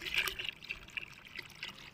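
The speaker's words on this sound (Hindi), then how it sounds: "आप लोग देख सकते हैं हम भर रहे हैं पानी। ड्रम लगा है छत पे" Water runs into a drum on a rooftop where plastering work is under way, a faint, uneven trickling and splashing that continues throughout at a low level.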